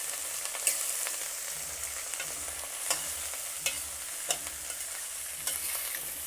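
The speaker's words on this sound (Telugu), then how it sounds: "ముక్కలు వేసాక ఒకసారి పైకి కిందకి బాగా కలపాలి." Cabbage pieces being stirred into a sizzling mustard-seed tempering in a pan, in Konaseema-style cooking: a steady frying hiss with sharp spoon-scrape clicks every second or so, close up, with no talking.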